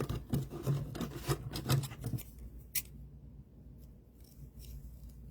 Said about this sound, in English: we can put this right along her hair and cut it